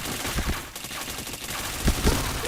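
Rapid video game gunfire, a dense, loud volley of shots with a few heavier bursts, continuous for a couple of seconds.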